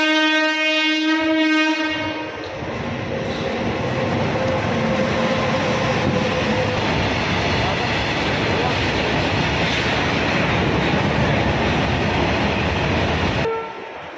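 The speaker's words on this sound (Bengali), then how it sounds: "আর এক্ষুনি ট্রেনটা থামলো।" Train at Durgapur station: a loud multi-tone horn blares for about two seconds, then a steady heavy rumble of rolling wagons continues before stopping abruptly.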